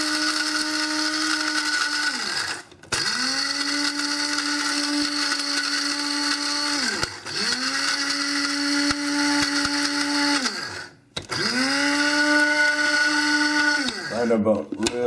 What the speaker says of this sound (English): Grind them up real good till they become just become like a little powder